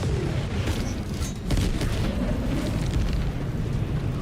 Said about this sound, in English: Bot outpost destroyed.